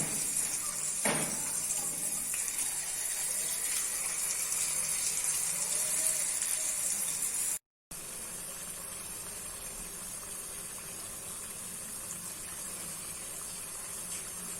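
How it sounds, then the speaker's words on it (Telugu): Urad dal fritters (minapappu punugulu) deep frying in heated oil in a pan on a stove, giving a steady, even, hissing sizzle that runs through the whole stretch without pause. "ఇలా హీట్ అయిన ఆయిల్లోకి పునుగులను వేసుకుందాం."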